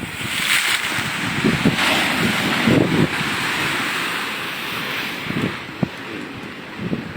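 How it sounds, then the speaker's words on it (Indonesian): High rolling ocean waves break and wash continuously along Galesong beach in Takalar, with loud surf and steady wind buffeting the microphone, a few heavier crashes rising out of the roar. "Gulungan ombaknya ya cukup"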